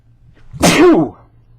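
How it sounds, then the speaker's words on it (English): A single sharp sneeze up close, a quick inhale followed by a loud burst, then quiet. "didn't mean to sneeze"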